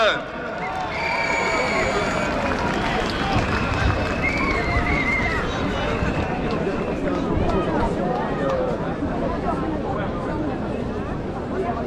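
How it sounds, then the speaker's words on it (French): Large outdoor crowd at a Paris protest against the vaccine pass on Place du Trocadéro, giving loud, sustained applause blended with cheering and crowd noise for the whole stretch. "Vous pouvez applaudir extrêmement fort Frédéric."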